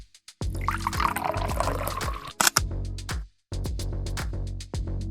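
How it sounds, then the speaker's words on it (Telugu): Water poured into a pressure cooker over soaked chickpeas, a steady close splashing pour lasting several seconds, briefly stopping and then resuming. "ఇప్పుడు కుక్కర్లో వేసుకొని మునిగేంత వరకు శనగలు వాటర్ వేసుకోవాలి"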